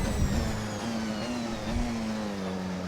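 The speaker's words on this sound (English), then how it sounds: "Hear that squeal that starts at a very high pitch and then ramps down in its frequency as we slow down." Porsche 919 Hybrid race car braking on track, its front-axle motor-generator regen giving a high whine that falls in pitch as the car slows, over steady loud engine and road roar.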